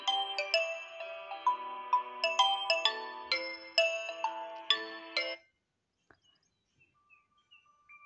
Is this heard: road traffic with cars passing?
no